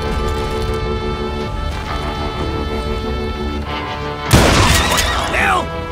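Gunfire erupts in a Wild West shootout with Pat Garrett's posse in Call of Juarez Gunslinger, a loud sudden burst of shots and cracks breaking in near the end over steady game background music and voices.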